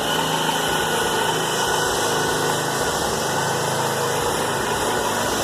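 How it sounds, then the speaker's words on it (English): A scrap baler's engine runs steadily at close range, a loud, constant droning idle with a vibrating rumble and no breaks. "Doing a little Baler action, huh?"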